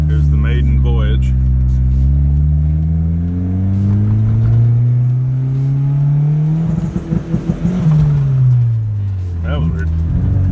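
A turbocharged Honda Civic on a test drive, its engine droning and rising in pitch as it revs and accelerates, then easing off and climbing again, heard loudly from inside the car.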